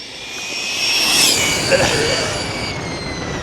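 A radio-controlled car on balloon tyres races past at high speed, its high-pitched motor whine swelling to a loud peak and then trailing off, with a rushing roar beneath.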